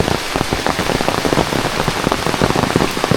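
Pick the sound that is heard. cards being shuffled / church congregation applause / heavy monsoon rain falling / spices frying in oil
heavy monsoon rain falling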